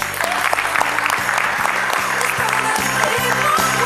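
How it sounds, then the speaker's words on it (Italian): Studio audience applause closes an Italian Sunday sports television show, with steady, full clapping from a crowd throughout and a rhythmic music beat running underneath. "Il nostro augurio lo rafforziamo con questo applauso."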